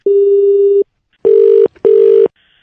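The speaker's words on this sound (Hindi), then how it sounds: "सिग्नल में कोई प्रॉब्लम आ रहा है, फोन कट गया था" A phone call drops: one long steady tone, a pause, then two shorter buzzy tones with a brief blip between them, loud and close, like a disconnect or busy signal on a handset.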